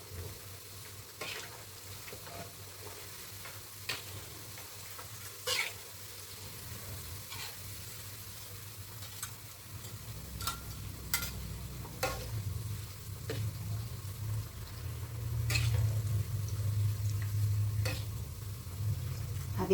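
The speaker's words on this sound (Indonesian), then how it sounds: "Kita kalau goreng karage harus begini, minyaknya banyak. Harus deep fry." Chicken karaage deep frying in plenty of oil: a steady, soft sizzle and bubbling that swells louder and denser in the second half, with occasional clicks of stirring on top and no voices.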